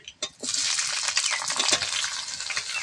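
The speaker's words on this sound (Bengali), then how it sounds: "এখন আমি এর মধ্যে টমেটো কুচি দিয়ে দিচ্ছি।" Chopped tomato tipped into onions and garlic frying in a pan for a masala chicken gizzard dish, giving a brief clatter and then a steady loud hiss and sizzle without voices.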